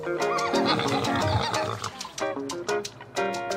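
A horse neighs on a 51-acre family farm that also keeps pigs and cattle, giving a loud, close whinny with wavering pitch, broken into several bursts across the few seconds.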